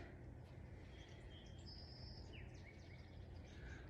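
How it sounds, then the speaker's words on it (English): Faint birdsong from springtime birds outside, scattered chirps and short whistled phrases over a steady low background rumble. "Oh, the birds are singing outside."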